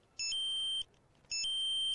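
In the game Emergency, a fire station alarm sounds after units are dispatched: two long electronic beeping tones, each under a second with a short gap, clear and steady over quiet background.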